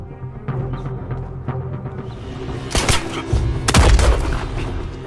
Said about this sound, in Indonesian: terjadilah aksi baku tembak